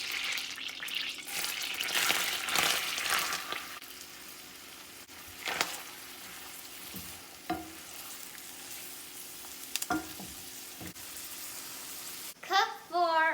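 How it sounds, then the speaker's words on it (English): Chopped onion fries in melted butter in a pan, a steady sizzle and crackle broken by a few stirring scrapes and clinks, loudest at the start, with no talk. "Cook for a few minutes till your onions turn transparent."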